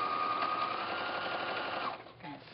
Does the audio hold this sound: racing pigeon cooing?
no